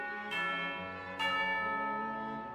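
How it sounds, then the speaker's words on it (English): Bell in the Genshin Impact video game rings twice to signal tea time, each strike a bright clang with a long ringing decay, fairly soft and heard alone. "Hear the sound of a bell."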